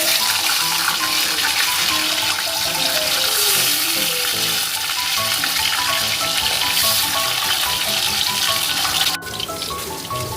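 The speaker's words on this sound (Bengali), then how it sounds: "তেল গরম হয়ে গেছে, এবার আমরা মাছগুলোকে একটা একটা করে ছেড়ে নেব" Pieces of katla fish dropped one by one into hot oil in a pan, giving a loud, continuous sizzling and crackling hiss that holds steady and shifts abruptly near the end, with no talking.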